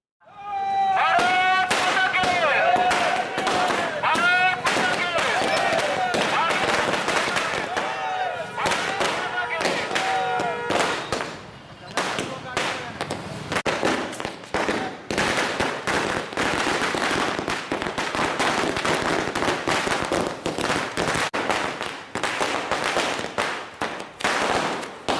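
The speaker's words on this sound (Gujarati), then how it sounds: "ગુજરાત પરિવર્તન પાર્ટીના કાર્યાલય ખાતે ફટાકડા ફોડી ખુશી વ્યક્ત કરવામાં આવી હતી" Firecrackers burst at a party office on the Gopipura Kaji ground in Surat during a celebration. The bangs come loud and rapid, in dense irregular volleys that run almost without a break, with crowd noise and voices underneath.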